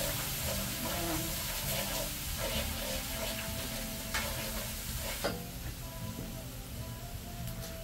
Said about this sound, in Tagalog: hinahalo ko na lahat para paglagyan ng shrimps